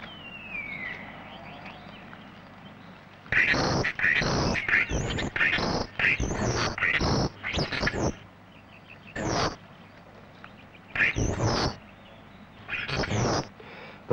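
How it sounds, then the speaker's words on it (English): Male starling giving its nest advertisement call, a run of loud, close, harsh bursts in quick succession followed by scattered repeats after short pauses, alone without talk. "he will then start to lure a hen towards it by using his special nest advertisement"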